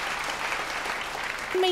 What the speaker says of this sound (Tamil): திருச்சி நர்மதாவுக்கு ஒரு பெரிய கரகோஷம் கொடுங்க